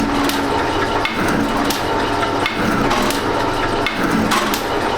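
A metal shaper cutting with a cheap Chinese tool bit, a loud rhythmic grinding scrape repeating roughly every second as the ram strokes back and forth, harsh and close, with a low mechanical drone underneath.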